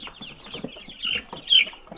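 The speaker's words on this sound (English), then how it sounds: "That's a chicken, ain't it? Yeah, that's a chicken." A farmyard chicken clucks in short, close bursts, a few quick calls with one sharper squawk, amid other fowl.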